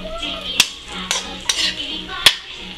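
Beef and broccoli cooking in a pan over medium-high heat, a steady low sizzle with several sharp metallic clinks of utensil against pan spaced through the short stretch.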